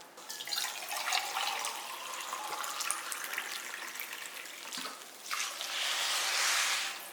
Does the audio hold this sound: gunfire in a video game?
no